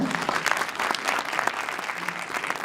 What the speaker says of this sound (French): Vous pouvez faire un applaudissement au maître